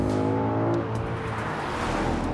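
A 2018 Ford Mustang GT under hard acceleration, its engine note rising into a loud, continuous roar close by, with no voices over it.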